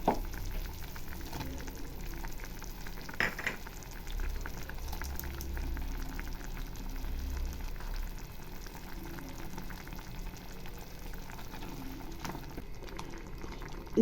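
A pot of chicken and drumstick curry simmers with masala and rock salt, giving a steady low bubbling and faint sizzle that carry evenly and close by throughout, with one brief knock partway through.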